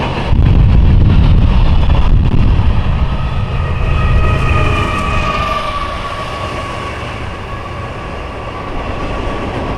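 A CSX freight train led by KCS GEVO locomotives rolls past close by. A loud, steady roar of engines and wheels comes first, then eases slightly into a sustained rumble of passing cars with high metallic tones.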